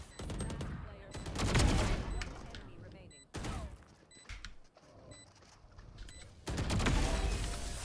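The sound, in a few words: gunfire in Valorant video game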